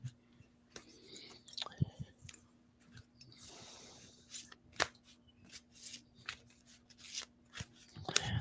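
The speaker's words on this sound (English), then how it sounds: "I'm going to pull some cards." Tarot cards are shuffled and pulled by hand in quiet, close, intermittent bursts: soft riffles, sharp slaps and clicks scattered irregularly over a faint steady hum.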